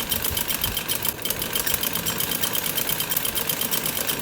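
An electric sewing machine runs a straight seam on a salwar, its needle chattering in a fast, even rhythm of rapid pulses that continues steadily throughout.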